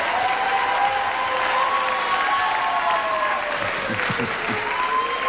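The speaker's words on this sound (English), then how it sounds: "As long as they're applauding, I know they're applauding for you and the job you've done." A studio audience at a classic game show applauds a contestant in sustained, dense clapping that holds steady and loud throughout, with a faint tonal music line running underneath.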